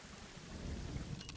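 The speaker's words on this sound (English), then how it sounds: "Now we're back in the rain." Rain and a low rolling rumble of thunder play in the Planet Zoo game during a zoo tour, a quiet continuous wash with no talking.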